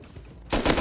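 Gunfire in the survival game Rust: after a quiet half second, a loud, close burst of rapid shots erupts and carries on to the end, with no talking.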